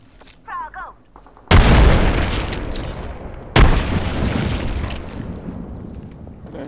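Two heavy booms from frag grenades in the video game Apex Legends hit about two seconds apart, each loud and close with a long rumbling tail, after brief voices at the start.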